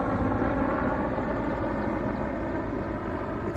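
A helicopter passes overhead during a walk through a forest settlement, its steady rotor and engine drone loud and continuous, filling the whole stretch with no voices.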